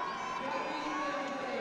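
A crowd at a Sochi Paralympic biathlon event, visually impaired and standing classes, gives a steady, broad cheering roar, with a voice faintly carrying over it.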